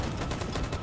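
A volley of gunfire in the video game Detroit: Become Human, heard as a dense, loud wash of overlapping shots filling the moment without pause.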